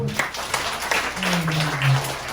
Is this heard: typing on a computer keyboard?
no